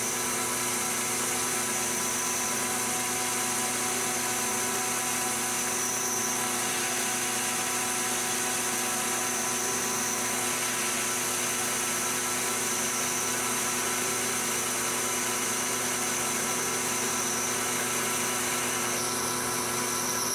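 A milling machine cuts a brass and epoxy tap handle, a steady high whining machining drone with dense broadband noise running continuously and fairly quiet throughout, with no voices.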